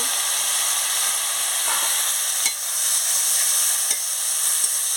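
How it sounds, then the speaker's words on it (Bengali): Spice masala with chopped tomato and a splash of water fries in a pan for a singi fish curry. A steady, close sizzle and hiss runs throughout, broken by a few sharp clicks and scrapes of a stirring spoon, and no one speaks. "মশলাটা ভালো করে একটু ভালো করে একটু মশলাটা ভেজে নিচ্ছি"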